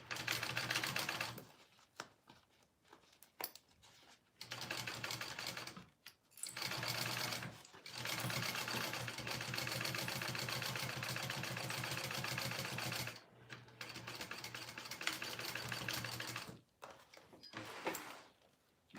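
A sewing machine stitches a Momexa bag in several bursts, each a steady fast rattling run broken by brief pauses, close up and fairly quiet with no talk over it.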